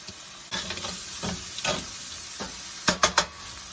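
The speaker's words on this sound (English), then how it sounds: "We're going to allow this mixture to cook, to simmer for a few minutes." Bacon, shrimp and chopped peppers simmering in a pan give a steady soft sizzle, broken by a few scraping stirs and three sharp clacks of a utensil near the end.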